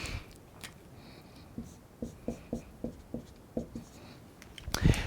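A marker squeaks and taps across a board in a string of short strokes, soft and close, in a quiet room with a louder knock at the end.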